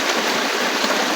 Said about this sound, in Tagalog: dito sa gubat mga kaidol, maraming batis